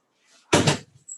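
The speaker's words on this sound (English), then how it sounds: "I might just close this door because I do think it's a little noisy though." A room door pushed shut during an online meeting, a single close, fairly loud thump with a short rattle, preceded by faint background noise and followed by a brief small sound.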